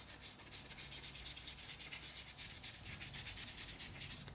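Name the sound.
paintbrush scrubbing paint onto canvas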